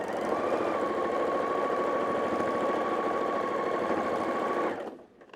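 A sewing machine runs steadily, stitching a half-inch seam on a small quilted pillow; the motor whirs loud and constant for nearly five seconds, then stops abruptly.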